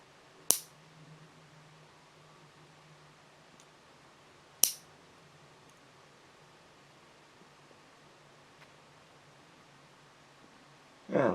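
Premium nail clippers cutting fingernails, three sharp isolated snips spaced several seconds apart in an otherwise quiet room with a faint background hiss.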